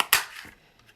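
A craft punch cuts through paper with a single sharp, crisp punch-like snap, followed by a couple of faint light clicks.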